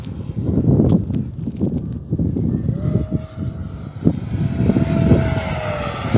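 FMS Yak 130 70mm electric ducted-fan RC jet making a high-speed pass, a rising whine that sweeps across and fades, heard over outdoor rustle and handling noise.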